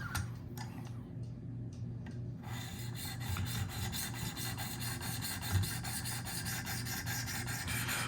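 Rhythmic rasping strokes of a sharpening stone on a Spyderco Shaman knife with S90V steel, clamped in a Wicked Edge guided sharpener, a steady back-and-forth scrape alone after a few sparse opening strokes.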